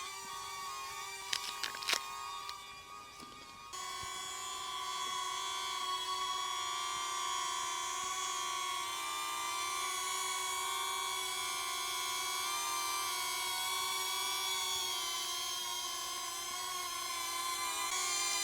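A DJI Neo drone flies nearby with a steady, high-pitched whining buzz that holds for many seconds after a few brief clicks at the start.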